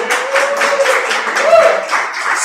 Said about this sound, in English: let's give Jackie another round of applause